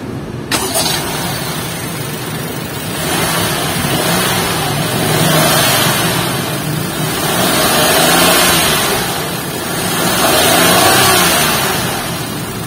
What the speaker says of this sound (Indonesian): Foot on the brake, kita pengen denger suara mesin ini kayak apa?